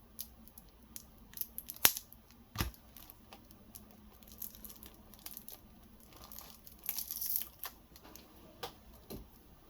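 Scissors snipping at a plastic-wrapped pack of plain playing cards, with sharp individual cuts spread through the clip and crinkling wrapper between them, close and fairly quiet.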